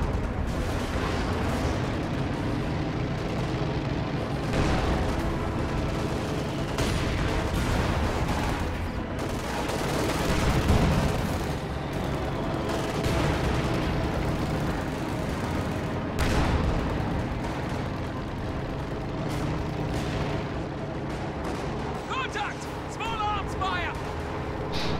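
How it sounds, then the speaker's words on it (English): Small arms gunfire in a World War II strategy video game, dense rattling volleys and explosions running continuously beneath a commentator's voice. "Small arms fire!"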